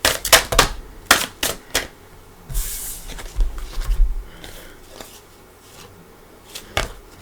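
Tarot cards are shuffled close up: quick crisp clicking bursts, a soft hissing riffle, then a few scattered snaps and taps, with no talking.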